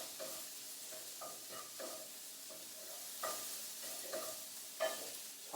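Vegetables sauté in oil in a pot for a lamb tagine, with a steady soft sizzle broken by scraping spoon stirs and a few sharper knocks against the pot. No one talks.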